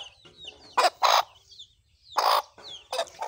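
A hen clucks nearby in a few short, loud bursts separated by pauses, with fainter chirping birds in the background.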